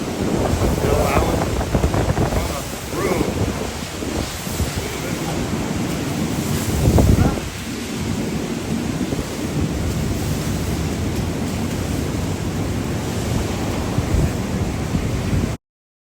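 Strong hurricane winds buffet the microphone at a beach while ocean surf roars steadily underneath, a loud, continuous rush for about fifteen seconds with a heavier gust near the middle.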